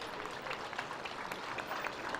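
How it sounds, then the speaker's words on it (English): Spectators at a junior fair dairy show applaud the junior champion Ayrshire heifer, a steady wash of mid-distance clapping filling the space evenly for a couple of seconds. "Give her a big round of applause."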